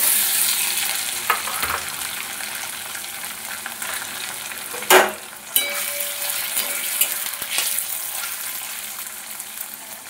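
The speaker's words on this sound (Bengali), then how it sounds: "কড়াইতে সরষের তেল দিয়েছি, পনিরগুলো ভেজে নেব।" Paneer fries in mustard oil in a kadai, giving a continuous loud sizzle with occasional clinks and stirring scrapes, and no voices.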